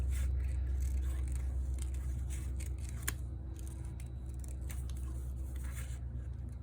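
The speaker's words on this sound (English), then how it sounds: "I quite like cutting out these little designs by hand." Scissors cutting a small paper card design by hand, close and quiet, with light snips and scraping over a low steady hum and no voice.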